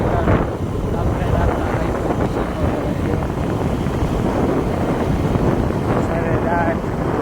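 A boat ride off Porbandar, with steady wind buffeting the microphone and a broad roar of engine and water running continuously throughout.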